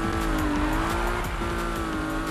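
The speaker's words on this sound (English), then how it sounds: "you can slam on the brakes and it'll drift" Car in Need for Speed 2015 braking hard and sliding into a drift, loud tire squeal over a steady engine drone, the screech rising and wavering continuously from start to finish.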